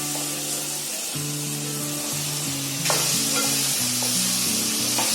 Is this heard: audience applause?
no